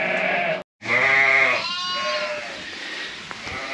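Sheep on a winter farm bleat loudly and close by, one long wavering cry after a brief cut, followed by a quieter trailing bleat, then low barn noise.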